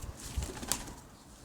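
Arfal pigeons coo softly at close range, with a brief flutter of wings and a couple of short bird calls amid a quiet room.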